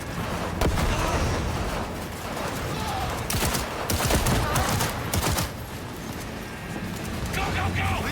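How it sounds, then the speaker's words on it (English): A grenade goes off in a Cyberpunk 2077 firefight. Several sharp, booming blasts hit in the middle of near-constant, noisy gunfire, with loud crackling bursts spread across the whole stretch. "That's a grenade!"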